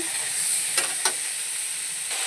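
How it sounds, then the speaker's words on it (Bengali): Potato, eggplant and tomato with turmeric, salt and spices sauté in a pan with a soft, steady sizzle and hiss, broken by a couple of brief stirring scrapes. "এবার আর একটু কষিয়ে নেবো ভালো করে সুন্দর করে কষিয়ে নেব"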